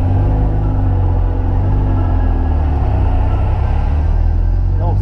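A truck drives past on a road, heard from inside a moving car as a loud, steady low engine rumble and road roar that fills the whole stretch without a clear rise or fade.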